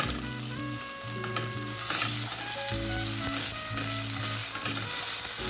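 Mashed broccoli being stirred into fried onion and chilli in a hot pan, a loud steady sizzle with scraping stirs, over tonal background music.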